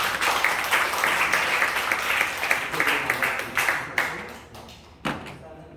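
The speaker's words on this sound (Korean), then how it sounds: "우리 권사님 응원 차원에서 박수 좀 부탁드립니다" A church congregation applauds during a Sunday service, steady clapping that thins and fades toward the end, broken by a couple of thumps.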